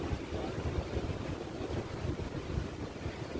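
A sea breeze blows on the shore at Kozhikode in the shade of a tree. It makes a soft, steady rush of wind noise with no speech.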